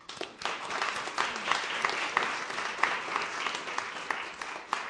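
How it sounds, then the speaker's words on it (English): A hall audience breaks into applause for a school band, a dense, sustained clapping that rises quickly and holds steady, with a few sharper individual claps standing out. "Great round of applause."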